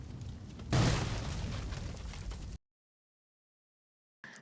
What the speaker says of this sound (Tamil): இப்போ கடைசி புல்லட் சுட்டோன்னே வெடிச்சிருச்சு.